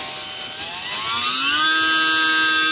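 The small electric motor and propeller of an E-flite J-3 Cub UMX model plane throttle up, a loud close whine rising steadily in pitch and then holding steady.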